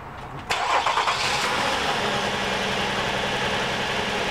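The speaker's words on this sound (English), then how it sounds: "Then, of course, you've got to start the engine." A car engine cranks and fires at about half a second in, then settles into a loud, steady idle heard close up with no talking, during an ignition coil test.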